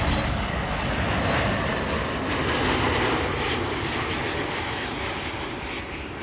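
Transavia airliner in retro livery at Amsterdam Schiphol Airport, its engines giving a steady, loud broadband roar that holds evenly throughout with no talk.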